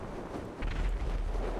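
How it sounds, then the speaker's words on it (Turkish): A helicopter blows up in GTA V Online, a deep rumbling boom that surges in partway through and keeps rolling low and heavy to the end. "Oh, helikopter patlayacak."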